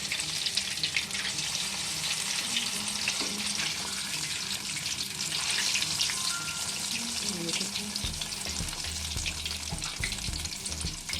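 Restaurant-style crispy fish pieces frying in hot oil in a kadhai, three or four at a time, giving a dense, steady sizzle and crackle that stays loud and even throughout, with a faint low hum beneath.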